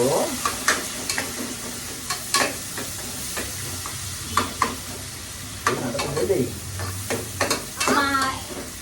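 Steady sizzle of onions and green chillies frying in oil, with repeated scraping and stirring clatter from a utensil against a pan, a few brief voices in the background.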